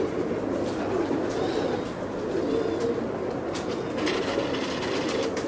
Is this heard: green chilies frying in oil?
no